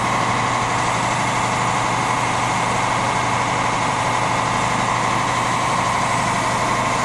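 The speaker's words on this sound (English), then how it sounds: "Can you go turn that air compressor off?" An air compressor runs in a refinishing workshop, giving a steady, loud, unbroken mechanical drone with a constant hum and no pauses.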